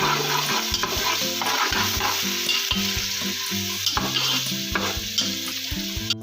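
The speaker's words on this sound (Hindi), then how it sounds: "अब इसमें लहसुन अदरक का पेस्ट डाल के थोड़ा सा भूनेंगे।" Steady sizzling of ginger-garlic paste frying in a pan, with occasional stirring clatter of a utensil against the pot, close and continuous.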